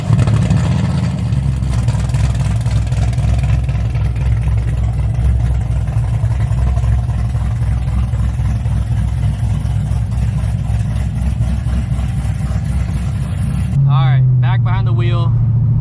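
A straight-piped Corvette Z06 accelerating from a stop, its engine a loud, steady, close droning roar that rises in pitch before cutting off near the end.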